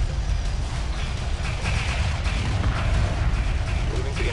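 Support frigate guns fire during a space battle in the video game Homeworld Remastered. The gunfire forms a dense, continuous, booming low rumble with crackling over it, mixed with game voices.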